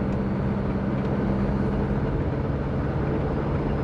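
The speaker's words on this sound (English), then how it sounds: "Still making the steam train." A compound-turbo Subaru with a boost problem gives a continuous rushing, rumbling whoosh with a faint steady low hum, likened to a steam train, steady and fairly loud without talk.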